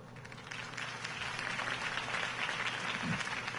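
A crowd applauds a campaign speech by Harvey Dent in Batman: The Telltale Series. The clapping is a dense, sustained wash that rises slightly and holds steady over a few seconds, with no clear speech.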